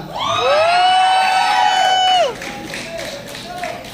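An audience at a DXN gathering in the Philippines greets a guest speaker with a loud, drawn-out cheering whoop that drops into softer crowd noise and scattered claps.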